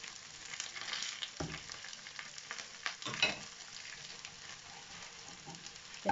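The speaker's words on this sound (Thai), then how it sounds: "จะทอดให้มันเหลืองๆด้วยค่ะ" Khao jee, sticky rice coated in egg, frying in a pan, giving a steady close sizzle with scattered crackles and stirring scrapes, no talk over it.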